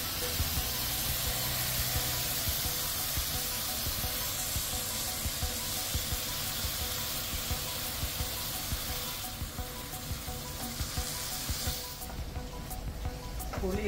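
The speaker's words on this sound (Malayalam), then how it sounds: "അപ്പോൾ ഇതിനകത്ത് 4 തവി പുളിവെള്ളം ഒഴിക്കുകയാണ്" Tamarind water pours into a hot pan holding ginger and masala for Kerala-style puliyinchi, making a steady close hiss of sizzling and splashing liquid that runs for several seconds before quieting slightly near the end.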